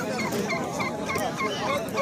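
Geese honk at a crowded poultry market in Qarshi, Qashqadaryo, short overlapping nasal calls over a dense din of other fowl and market noise, continuous and fairly loud.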